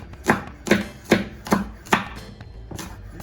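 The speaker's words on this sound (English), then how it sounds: "You're gonna chop up the white part." Knife chopping the white part of a green onion on a cutting board, about eight crisp, evenly spaced chops, loud and close with no voices.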